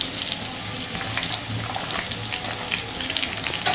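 Onion pieces dropped into hot oil already browning green chillies, ginger and garlic for crispy dry chilli chicken produce a continuous crackling fry, bright and busy, with scattered spattering pops and no talk over it.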